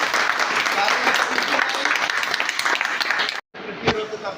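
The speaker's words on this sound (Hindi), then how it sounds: "बहुत जोरदार ताली" An audience gives sustained, loud applause that fills the hall and continues without a break. It then cuts off abruptly, and a few quieter sounds follow.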